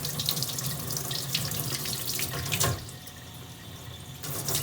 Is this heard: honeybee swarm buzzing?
no